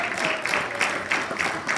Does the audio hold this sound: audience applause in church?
yes